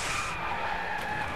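Tires skid with a sustained squeal as a car drifts on a mountain course in a Driveclub racing game, a continuous loud screech lasting just over a second with no talk over it.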